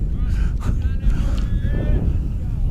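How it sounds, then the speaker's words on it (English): Wind gusts across an outdoor high school baseball field, a constant low rumble buffeting the microphone throughout, while a broadcaster's voice is heard faintly underneath. "As the wind picks up."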